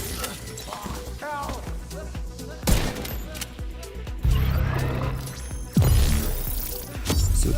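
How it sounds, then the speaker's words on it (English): Rifle fire in The Division 2 during a firefight, with sharp shots and heavy bursts layered over mechanical game effects and a busy, dense combat backdrop. "See what the rifle is going to do on this guy"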